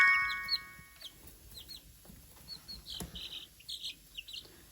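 Two-week-old chicks, among them a Wyandotte chick, give faint, scattered high peeps and tweets in short bursts, with quiet rustling underneath and no talking.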